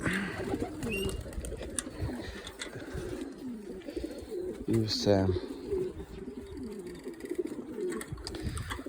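Pigeons coo in repeated low, throaty phrases close by, with someone speaking briefly over them and other faint bird chirps in the background.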